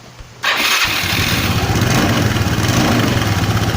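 A first-generation Yamaha Cygnus scooter with a freshly refitted exhaust pipe starts after a moment of near silence. The engine catches abruptly and settles into a loud, close, steady idle with a rapid pulsing beat.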